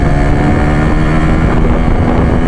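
A motorcycle engine running at mid RPM on United MX 2T two-stroke oil during a test ride in Kemayoran, a loud steady drone with wind rushing across the microphone and no talk.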